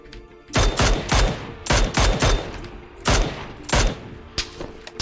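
Several loud, close bursts of automatic gunfire in PUBG, fired in quick separate volleys with short gaps between them and then a few lighter shots at the end.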